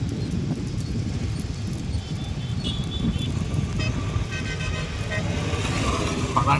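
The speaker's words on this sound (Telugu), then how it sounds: "ఇదిగోండి ఆ బస్సులో అయితే వస్తున్నారు సిరి, ఝాన్సీ." A bus approaches along a road, a steady rumbling engine in the distance with horn toots and passing traffic layered over a continuous background hum.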